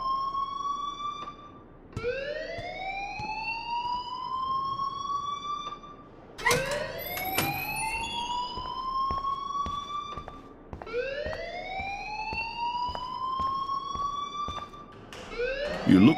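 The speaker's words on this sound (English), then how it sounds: "please turn off that alarm since that's your job" A fire alarm at Blackwell Academy in the video game Life Is Strange wails in long rising sweeps that repeat about every four seconds. It is loud and insistent, with faint background sounds underneath.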